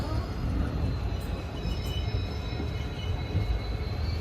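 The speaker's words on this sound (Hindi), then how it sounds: "हमारी ट्रेन का डिपार्चर हो चुका है सागलपुर जंक्शन से" Passenger train rolling along the rails after leaving Sagalpur Junction, en route from Delhi to Gogameri: a steady, close low rumble of carriages with constant wheel noise and a faint high whine, continuous throughout.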